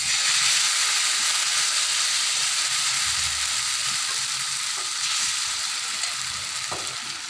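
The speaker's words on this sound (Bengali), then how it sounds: "এখন আমি 1 ডাবু বেটার এখানে দিয়ে দিলাম।" A ladle of egg-and-flour batter for a chitoi breakfast dish hits hot oil and fries with a continuous, even sizzle and hiss, close and unbroken, slowly easing in loudness.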